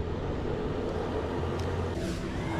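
A boat motor on the water during a fishing trip, a steady, loud low drone with a continuous rumble that holds even throughout.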